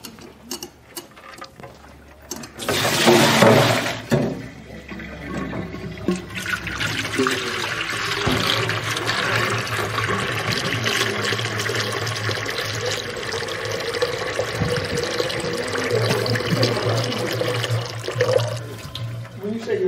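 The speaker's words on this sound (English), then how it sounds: "3 quarts of water" Three quarts of water being poured for a chocolate chip brownie cream ice, a continuous splashing stream that swells early, then runs steadily under people talking.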